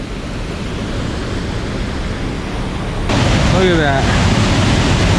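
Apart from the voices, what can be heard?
St. Mary Falls waterfall rushing water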